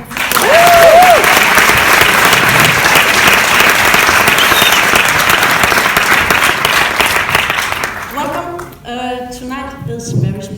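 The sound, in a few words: audience applause for film director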